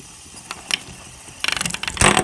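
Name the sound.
fidget spinner spinning against LEGO minifigures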